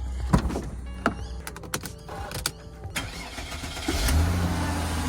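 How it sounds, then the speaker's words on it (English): A Mercedes CLK engine cranking and catching after an oil filter gasket replacement, with clicks and knocks early on before the motor settles into a steady low idle rumble, close by. "It is now time to start the car and see if it leaks."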